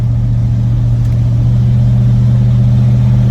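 A 1989 Ford F-250 with a big-block 460 V8 and a check-engine light for an O2 sensor runs steadily at close range, a loud, even low rumble with no talk.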